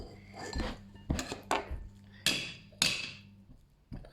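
A knife cuts food in half on a board, with several sharp knocks and taps at irregular intervals and a faint low hum underneath.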